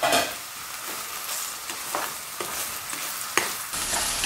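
Meal maker soya chunks fry in oil over a high flame, a steady broadband sizzle with periodic scraping stirs roughly every half second to second, close and moderately loud, with no voices.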